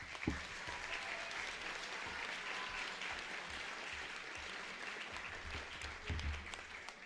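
Sustained applause from a school awards audience honoring 7th graders: steady, dense clapping throughout, fairly distant and even, with a few louder bumps and no clear speech.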